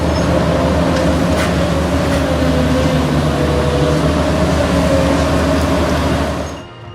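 Loader vehicle with a continuous, loud mechanical rumble and hum that stays even throughout before cutting away at the very end.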